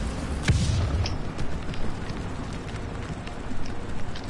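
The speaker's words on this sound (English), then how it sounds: "You just know the explosion behind you are bombers." Bombs from bombers in the video game War Thunder explode in a deep boom early on, followed by a continuous rumbling, crackling wash of battle noise.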